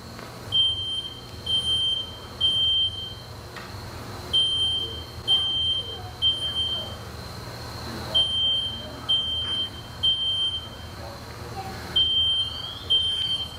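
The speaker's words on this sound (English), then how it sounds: "hear the smoke alarm initiating now, within seconds" Repeated shrill electronic beeps from a smoke alarm during a spreading couch fire, sounding in short bursts of three with brief pauses, over a low background rumble.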